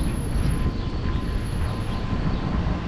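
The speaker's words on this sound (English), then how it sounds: "So here comes a big airplane on the incline." A big airplane on its climb-out over a city street, a loud steady broadband roar that fills the whole stretch.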